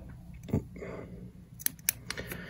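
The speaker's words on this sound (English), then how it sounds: "then we'll cut off this excess here" Scissors snip off excess thread while tying a bunny leech fly, giving a few short, close, crisp clicks after some quiet handling noise.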